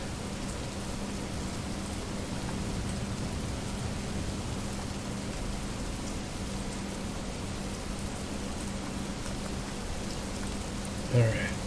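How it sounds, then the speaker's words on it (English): Rain ambience played as background to a tabletop dungeon crawler game, a constant rushing patter of rainfall throughout, with a brief louder bump near the end. "Actually find it very relaxing to play this dungeon crawler game and listen to rain."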